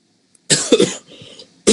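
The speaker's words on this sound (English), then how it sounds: "I've got a cough as well, that's new." A single close cough bursts out after a short silence, followed by a rough throaty exhale and the start of another cough.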